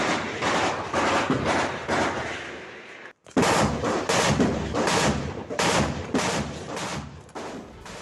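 Rapid gunfire in the Ukraine war zone, sniper and heavy machine-gun bursts crackling loud and dense in close succession, with one brief pause before the barrage resumes just as intensely.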